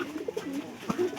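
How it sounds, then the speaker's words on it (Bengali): A pair of wild-coloured pet pigeons coo softly at close range, several short throaty calls in a quick sequence, with faint background noise. "আমার 5 মাস আগে এক জোড়া কবুতর আছে"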